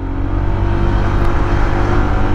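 A Honda ADV 160 scooter climbs a hill at full throttle, its engine droning loud and close in a steady, sustained hum with strong wind rumble and no voices.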